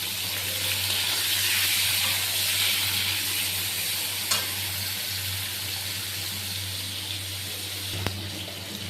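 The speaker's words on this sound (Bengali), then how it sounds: "সাদা তেলটা গরম হলে তাতে দিয়ে দেব আগে থাকতে কেটে রাখা আলু। আলুগুলোকেও হালকা লাল করে ভাজতে হবে।" Cut potato pieces fry in hot white cooking oil, giving a steady, close sizzle that fills the whole stretch, with a couple of brief knocks and no one speaking.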